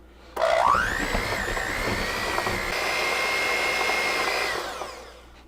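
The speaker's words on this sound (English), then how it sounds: "So basically we're just creaming the butter here to make it easier to mix in the icing sugar and the vanilla" Electric hand mixer creaming room-temperature butter for buttercream icing, whirring up with a rising pitch at the start, then holding a steady high buzz for several seconds before winding down.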